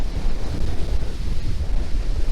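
Strong wind buffets the microphone across an open valley near Bridgeport in eastern California, a steady low roaring rush with gusting swells and no voices.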